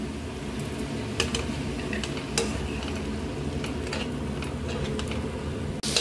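Chopped tomato stirred into frying onions in a pan for a pomfret fish curry, with a continuous sizzle, light scraping stirs and occasional utensil taps, ending with a sharp clatter.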